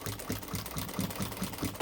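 A sewing machine stitches through thick seams of a messenger bag, its needle thumping in a steady rapid rhythm with a low mechanical hum, close and fairly quiet with no talking.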